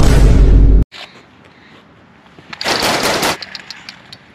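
An AK-47 firing: a loud, dense burst that cuts off abruptly, then after a pause a second rapid burst of shots lasting under a second.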